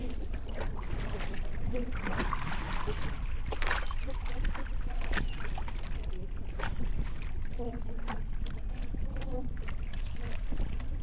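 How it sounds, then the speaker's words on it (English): Wind rushes steadily across the microphone outdoors on a small sailboat in the Everglades, with faint flapping and water sounds in the background. "it's pretty windy out here"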